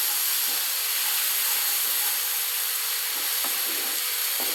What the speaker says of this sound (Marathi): त्यामुळे आपल्याला तिला छान तेलामध्ये परतून घ्यायचं आहे